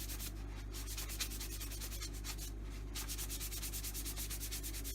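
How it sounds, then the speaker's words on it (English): Steady, rhythmic rasping of a sandpaper block rubbed back and forth over a wooden table sign, close and continuous, with no voices. "I'm just going to give it a little final tickle with a bit of sandpaper"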